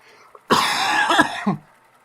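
A single close, harsh cough bursts out loudly for about a second, with rough throaty catches, then fades to quiet.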